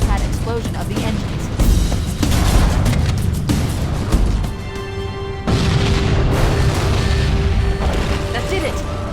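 Explosives detonating ship reactors in Halo: Combat Evolved, a dense series of heavy booms and rumbling blasts layered over continuous roaring noise and game sounds, loud and sustained.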